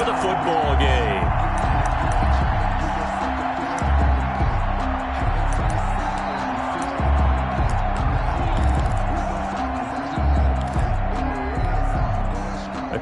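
Football stadium crowd at a Chargers versus Bengals NFL game, a steady dense roar of many voices with rhythmic swells, continuous under a commentator's speech.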